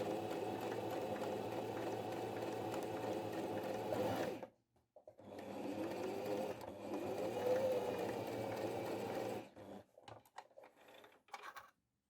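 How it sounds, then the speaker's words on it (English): A sewing machine stitches fabric for miniature dollhouse cushions, giving a steady, quiet mechanical whir that stops twice briefly before running again and ending in short, stuttering bursts. "I sewed 3 edges, leaving one open to turn it inside out."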